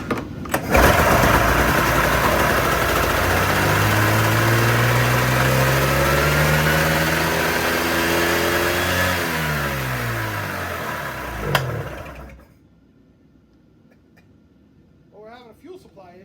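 A 1997 Arctic Cat 440 two-stroke snowmobile engine with a fuel supply problem revs loudly up and down at close range, its pitch rising and falling, then cuts out abruptly, leaving near quiet.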